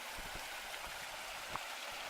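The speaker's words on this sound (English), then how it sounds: "Quite a bit of water running" Water runs over a small mountain creek crossing on a trail, a steady, faint rushing and gurgling heard close by with no talk.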